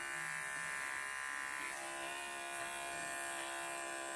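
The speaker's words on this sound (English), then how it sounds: "I'm going to shave what comes over the back of the pad" Electric clippers buzz steadily and close up as they shave hair over the back of a Samoyed's paw pad, a continuous even hum with no talking.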